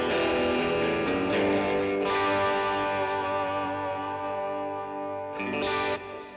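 An electric guitar driven through an overdrive pedal on a budget pedalboard plays sustained, gritty chords, several strums ringing loud and close before a final change near the end, with no voices.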